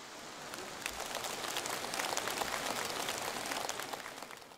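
An audience claps warmly at a 2015 Buddhist gathering in Hong Kong, a dense, even patter of many hands sustained for several seconds at moderate distance with no talking.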